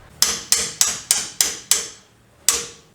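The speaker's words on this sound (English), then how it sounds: "I'll probably just try and use a hammer" Seven sharp metallic hammer strikes on a tie rod end of a D22 Navara, six in quick even succession, then a pause and one final blow, loud and close.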